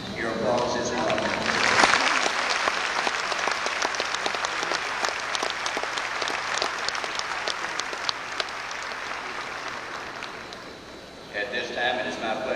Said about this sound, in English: Your applause is in order.